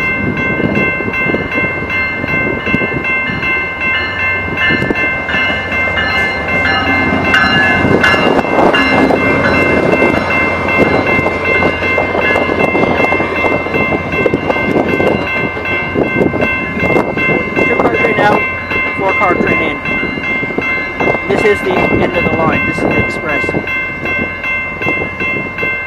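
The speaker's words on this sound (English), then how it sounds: "That's the four car train like the other one was." A four-car Rail Runner commuter train passes close by, a loud continuous rumble and rail clatter with steady tonal whine throughout, no talk.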